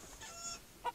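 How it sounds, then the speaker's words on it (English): A chicken, a hen, gives a few faint, soft clucks with a brief louder cluck near the end, alone and quiet. "A hen. It's still a chicken. A chicken is a chicken."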